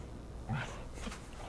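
Torgal, the dog companion in the video game Final Fantasy XVI, gives a brief, soft whimper over quiet in-game ambience.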